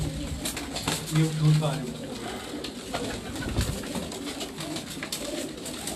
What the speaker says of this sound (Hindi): ये सब उन्हीं कबूतरों के पट्ठा पट्टी हैं